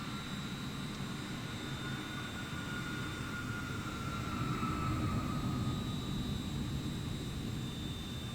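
A jet airliner taking off in a flight simulator game, its engine roar a steady, moderately faint hum with a thin high whine, swelling slightly toward the middle.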